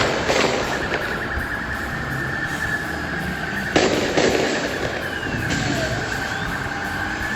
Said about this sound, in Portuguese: A gente escuta 8 tiros antes da batida do carro